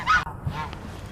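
A turkey at Lincoln Park Zoo in Manitowoc, Wisconsin gives a short, loud honking call close by, followed by a fainter, softer note.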